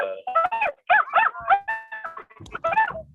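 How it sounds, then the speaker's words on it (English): A dog barks and yips close by in a quick run of sharp, loud calls with short gaps between them. "sorry, my dog."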